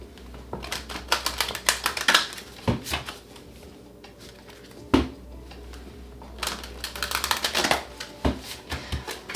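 Crisp riffling tarot card shuffles in quick bursts, a few close rapid flutters with brief pauses and soft taps between them.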